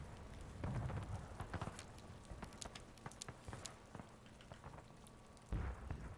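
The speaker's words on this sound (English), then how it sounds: "Looks like we got rain again." Rain falling in War of Rights, a steady broadband patter with scattered sharp drops and occasional heavier thuds, fairly quiet and continuous throughout.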